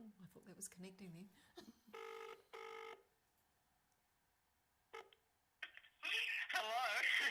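An outgoing phone call placed during an online awards webinar, with electronic ringing tones in two steady bursts while connecting, between stretches of people talking.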